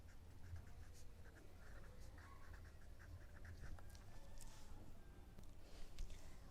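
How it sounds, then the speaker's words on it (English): A pen scratches out a math inequality question on paper in a quiet room, with faint, irregular strokes and taps and no talk. "I will write the question first."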